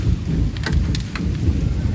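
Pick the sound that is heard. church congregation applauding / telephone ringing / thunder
thunder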